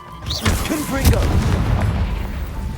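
A Confringo spell explodes in Hogwarts Legacy on Xbox Series X, a loud booming blast with a rumbling low tail that lingers over the whole moment. Voices and game sounds run underneath.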